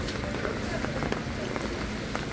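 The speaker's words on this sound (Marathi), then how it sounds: "हे बघा पाऊस किती मस्त चालू आहे बघा बाहेर" Rain falls steadily outdoors, making a dense, even hiss with scattered soft drop taps throughout the short stretch.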